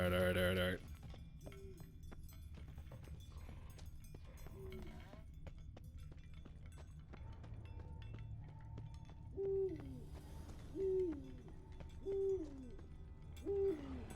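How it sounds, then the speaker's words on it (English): An owl hoots at night in the video game Witcher 3 Blood & Wine: a short series of soft, low two-note hoots repeating at a steady pace toward the end, faint beneath game ambience and occasional sounds. "Is that an owl?"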